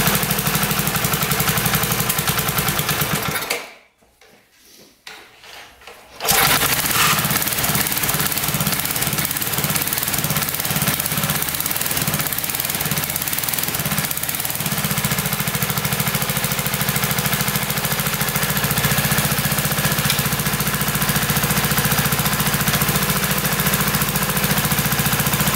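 Old barn-find mini bike engine, unrun for over twenty years, idling roughly and refusing to rev out, a loud, steady chugging drone close by that cuts out briefly into near silence before restarting and running on with an uneven, knocking beat.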